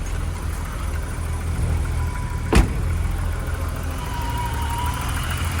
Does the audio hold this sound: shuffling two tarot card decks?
no